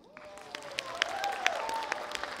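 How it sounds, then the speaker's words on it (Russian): Applause from an audience at a cosplay festival opening, a fairly faint, distant patter of clapping with a few sharper individual claps standing out over a voice. "Аплодисменты!"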